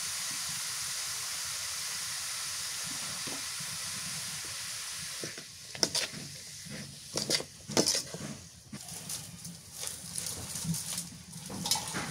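Garlic and cumin paste frying in a pan, a steady broadband sizzle that drops away midway, followed by irregular clinks and scrapes of pan and utensil, close and moderately loud with no talk.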